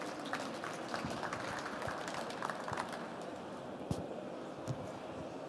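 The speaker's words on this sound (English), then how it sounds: "Please, a short applause." Short burst of audience applause at a trade-fair stage presentation, a steady patter of many hands clapping at moderate distance, fairly soft and even throughout.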